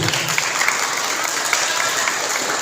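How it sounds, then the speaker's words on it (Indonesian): Sustained audience applause fills a hall at a women's Quran quiz competition (MFQ) during the MTQ XXXIII in Luwu regency. Dense, steady clapping from many hands continues evenly throughout, close and fairly loud. "Kita beri aplaus untuk ketiga ini."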